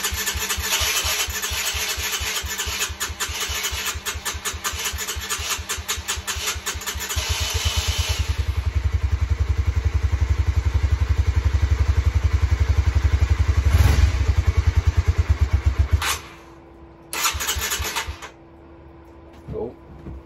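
A Honda CBR125R motorcycle, restarted after ten years with fresh fuel and a new battery, cranks in a rapid steady chatter that builds into a loud, close running engine, then cuts out abruptly and fires briefly again near the end.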